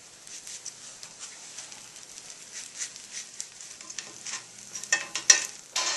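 Oil-brushed bruschetta bread slices toast on a hot pan with a soft, even sizzle and light crackling patter that grows a little louder near the end, heard alone without voices.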